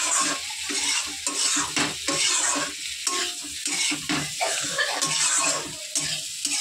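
Vegetables sauté in a pan with a continuous loud sizzle. A spatula scrapes and stirs them in repeated strokes, and the cookware clinks now and then.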